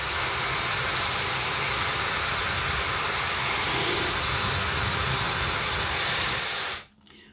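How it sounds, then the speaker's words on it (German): Two Laifen hair dryers blow at full power together, a loud, steady broadband rush of air close by that holds for several seconds before cutting off abruptly near the end. "Tolle Leistung für so einen kleinen Föhn."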